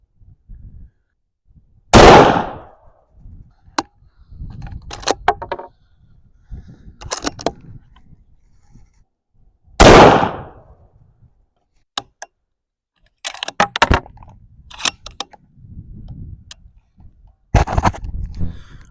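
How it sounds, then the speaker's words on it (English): Two loud, sharp rifle shots ring out outdoors about eight seconds apart while rifles are being sighted in, with quieter clicks, handling noises and shuffling scattered between and after them. "we're going to continue shooting here"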